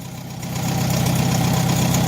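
A Farmall H tractor engine idles steadily, a low, even rumble that swells slightly and then holds a constant purr throughout, close by with no voices.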